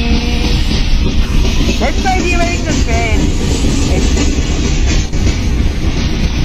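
A train rumbles steadily along the rails, a constant low roar with faint rattling, while people talk excitedly over the noise.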